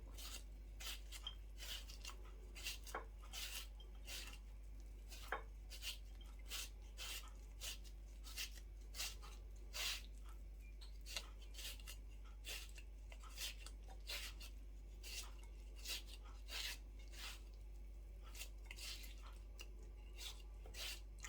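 A knife chops through a mango for a Thai-style green mango salad, giving a long run of quick, evenly spaced sharp taps, fairly faint, over a steady low background hum with no talking.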